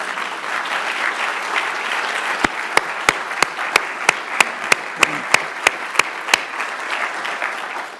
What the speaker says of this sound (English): So if Mark were here, we'd give him a round of applause.